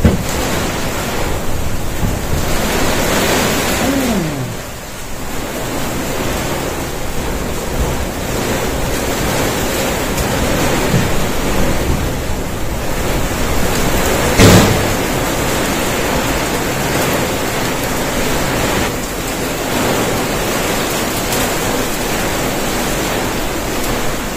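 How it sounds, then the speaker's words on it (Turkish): Heavy wind and rain buffeting a stranded caravan during a storm, a dense continuous roar with gusty swells and a brief sharp knock near the middle. "Bu yağmurun sonu hayır değil mi?"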